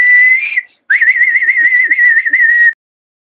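A person whistles a loud, sustained tone close by: a short steady note, a brief pause, then a longer warbling note that wavers slightly before stopping abruptly.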